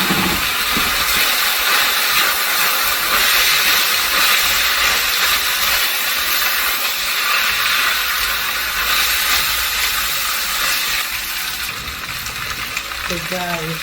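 Jasmine rice frying in a hot pan gives a loud, steady hiss and sizzle throughout. Near the end it drops slightly and there are brief stirring scrapes.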